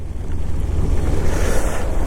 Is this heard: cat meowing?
no